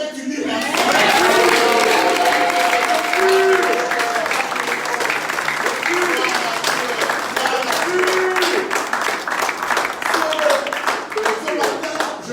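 A church congregation bursts into loud, sustained cheering and applause during a worship service, a dense roar of clapping and shouting voices that holds steady and close for several seconds.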